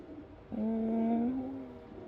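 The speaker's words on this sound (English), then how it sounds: "Here's something that sounds vaguely like pigeons cooing." In the VR game The Unspoken, a soft, low, pigeon-like coo rises once and trails off, faint and alone.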